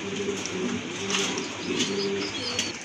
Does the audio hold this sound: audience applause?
no